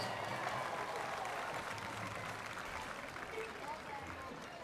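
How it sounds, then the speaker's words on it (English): Steady crowd applause in the stands at a high school football game, honoring a band student, a continuous dense wash of clapping heard from a distance at low level. "Let's give him a round of applause."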